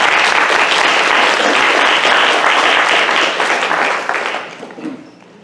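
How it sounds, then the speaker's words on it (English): Dense, loud audience applause at a sustainability solutions summit, steady clapping from a full room that holds for about four seconds before tapering off near the end. "Let's give them a round of applause."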